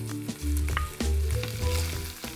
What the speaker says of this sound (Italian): Li faccio rosolare un paio di minuti.